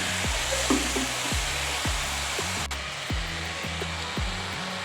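Hot milk is poured into grated carrots cooking for gajar ka halwa, making a steady close rushing hiss with low, regularly repeating thuds underneath and no speech.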